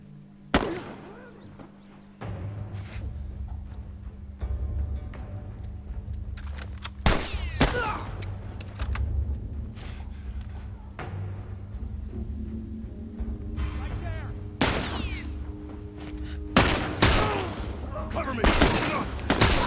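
Rifle shots and bursts of gunfire ring out in a video game, sharp loud cracks scattered irregularly among a steady game drone, with someone talking over them.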